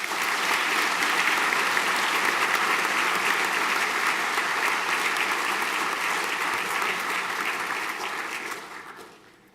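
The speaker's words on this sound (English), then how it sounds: "And a round of applause, please." A school senior prizegiving audience applauds after the naming of a student's awards, dense sustained clapping that holds steady before fading away at the end.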